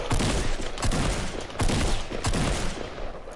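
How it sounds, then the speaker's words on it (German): Rapid gunfire from a video game during a livestream, loud and dense bursts of shots fired in quick succession, continuous and close with no talking. "Hast du gesehen, wie schnell ich hintereinander schieße?"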